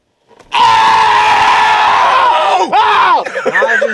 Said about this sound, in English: Why are you screaming in my ear,